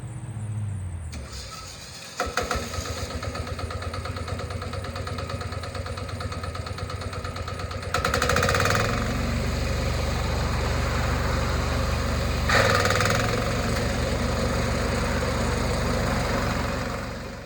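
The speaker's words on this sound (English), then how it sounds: "I'm going to lower the mower noise in the background here just so you can hear me a little bit better" A Chinese remote control flail mower starts up and runs, its engine catching after a brief stutter and then holding a loud, steady drone that swells slightly at moments, close by with no talking.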